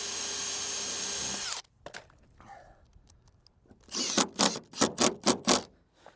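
A power drill drives screws through cladding and batten into metal on an insulated metal panel garden room: a steady whir that cuts off, a pause, then a series of short pulsed bursts.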